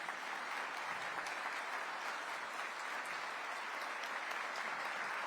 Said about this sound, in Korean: 모두 큰 박수로 환영해 주시기 바랍니다.